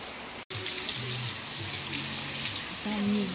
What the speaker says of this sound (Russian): Но дождь идет.